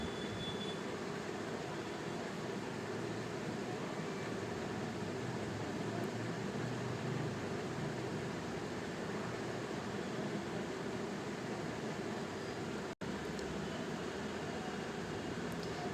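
A sewing machine stitches the neckline of a baby kurti, a steady, continuous mechanical whir running unbroken for the whole stretch at moderate level, with no talking.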